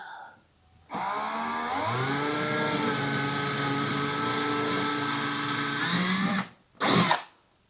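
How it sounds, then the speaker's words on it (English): A power drill driving screws into drywall whirs loudly and steadily for several seconds, its pitch shifting as it bites, stops, then gives one short final burst. "when I went to drill the second hole"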